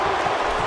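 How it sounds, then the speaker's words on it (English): Arena crowd noise from the WWE 2K16 wrestling video game: a brief, dense wash of cheering and applause that stays at a steady level throughout. "by the sound of this crowd, I think they're getting what they wanted"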